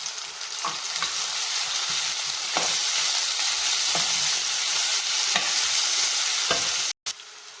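Oil sizzling in a pan during frying for a tomato curry, a steady close hiss broken by occasional stirring scrapes and a brief drop-out near the end.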